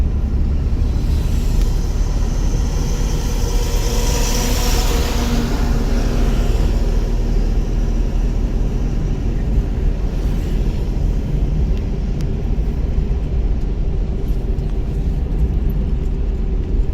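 A car engine drones loud and steady while the driver presses the accelerator on a first day of learning to drive, a constant close rumble filling the cabin with no talking heard.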